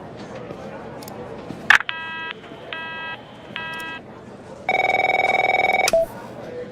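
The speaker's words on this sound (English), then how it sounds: "My phone's ringing off the hook here" A telephone rings in the video game The Operator, with three evenly spaced electronic trill bursts followed by a longer, louder steady ring tone, all over a soft background bed.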